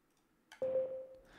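A single synth one-shot note with no effects rings out as a steady sustained tone after a brief soft attack, moderately loud and slowly fading, alone for an ambient beat.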